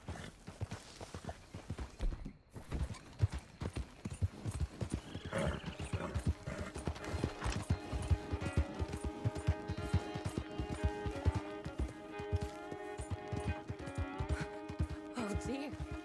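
Horse hooves clip-clop steadily beneath a mare ridden in Red Dead Redemption 2, a continuous rhythmic trot under swelling game music that runs the whole length.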